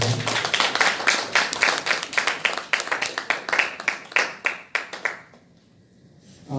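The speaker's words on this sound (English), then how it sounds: "let's give her a round of applause" Applause at a disability organization's regional assembly opening ceremony. Distinct, rhythmic claps from a modest crowd beat steadily for about five seconds, then stop abruptly, leaving near silence.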